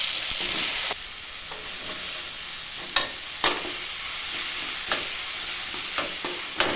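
Spices tempering for a home-cooked broad bean sambar, a steady loud sizzle with occasional sharp clinks of a spoon against the pan.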